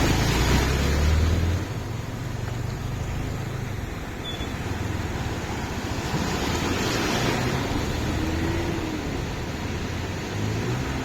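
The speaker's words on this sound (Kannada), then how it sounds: "ಅದು ಅಲೆಗಳು." Sea waves break and wash ashore on a drive-in beach near Kannur in Kerala, a continuous surf roar with heavy wind buffeting the microphone, swelling at the start and then holding steady.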